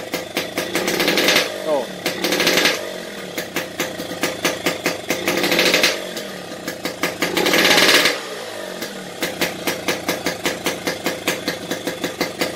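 A Yamaha RX King motorcycle with its carburetor set rich revs up in three loud, sharp bursts, dropping each time to a lumpy, pulsing idle, while someone speaks briefly nearby.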